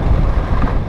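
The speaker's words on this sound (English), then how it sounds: "it's windy for sure" Strong wind buffets the microphone at the Oregon coast near Cannon Beach and Pacific City, a loud, steady low roar throughout with no voices.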